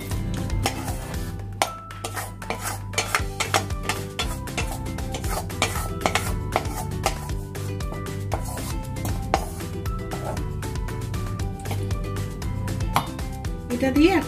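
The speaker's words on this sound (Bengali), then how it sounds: "এখন এটা আমি পুরো মিক্সির মধ্যে ঢেলে দেব" Cooked whole spices for paneer butter masala tipped into a mixer jar, with dense clinking and scraping of a spoon against metal and glass, close and fairly loud over a steady hum.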